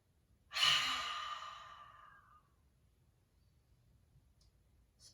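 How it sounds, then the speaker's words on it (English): One long, soft breath pushed out through an open mouth during a calm breathing exercise, close and breathy, fading slowly over about two seconds into near silence. "And then open your mouth, exhale."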